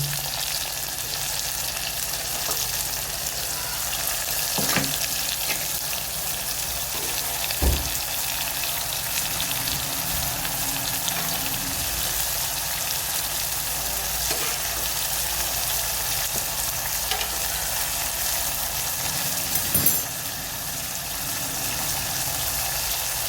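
A spice mixture sizzles steadily in a pan: turmeric, red chili, garam masala, coriander-cumin powder and asafoetida. Occasional stirring knocks and scrapes sound over the continuous frying, close and without talk.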